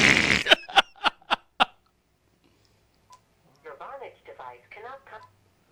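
A cell phone keypad gives five quick, evenly spaced dialing tones, loud and close. After a pause, a faint voice talks briefly.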